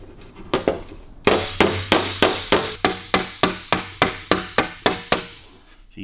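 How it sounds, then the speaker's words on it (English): A picking hammer taps a dent out of an aluminium body panel on a 1932 Lincoln KA, striking about fourteen sharp, evenly spaced blows in a steady rhythm, close and loud, with no talk. "So you use your picking hammer to get right into the corner"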